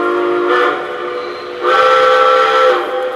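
Daylight model train locomotive, orange with number 41, sounding two loud, close, sustained steam-style whistle blasts separated by a short pause.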